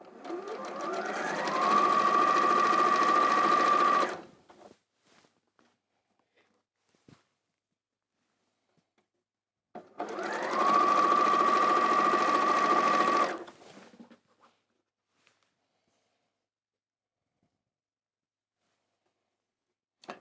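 A sewing machine stitching two quilt squares together, heard in two close, steady whirring runs of about three seconds each, separated by quiet pauses with faint handling sounds.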